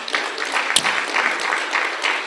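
An audience applauds a trade-union official introduced at a Nigerian climate-finance conference: steady, dense clapping from many hands filling the room, fairly close, with a faint voice briefly audible beneath it.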